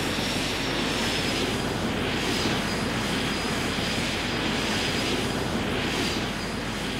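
Steady, loud broadband roar of a small private jet's engines inside the cabin during flight, continuous and unbroken with no voices.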